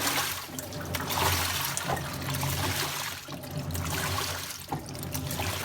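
Detergent water pours into a washing machine drum in a continuous, splashing gush, with the flow swelling and easing in a few waves, moderately close.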